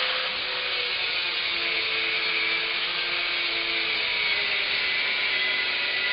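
Steady, continuous power-saw cutting of wood while building an interim workbench, a sustained whine and rasp running the full length without pause, fairly close and with no talking.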